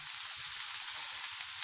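Minced meat and a frozen vegetable mix sizzle steadily in a frying pan, a soft continuous crackle and hiss heard close up with no talking.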